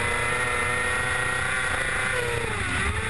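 Superstock race motorcycles, including a Yamaha, lapping a circuit in an Australian championship race, a continuous high-revving engine whine mixed with wind rush, one pitch sweeping downward near the end.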